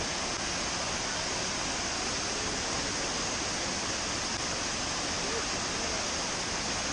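A mountain waterfall in the Appalachians of North Carolina, heard as a loud, steady, broadband roar of rushing water that holds constant for the whole stretch, with no voices.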